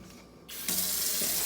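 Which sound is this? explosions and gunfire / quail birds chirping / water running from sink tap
water running from sink tap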